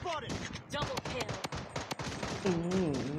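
Rapid gunfire bursts from the shooter video game Blood Strike, sharp repeated cracks through the clip with an excited voice talking over them.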